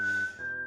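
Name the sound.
whistling in podcast theme music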